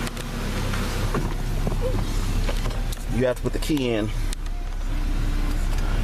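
A 2014 VW Passat engine idles steadily after a remote start, a low continuous hum running throughout while a person speaks over it.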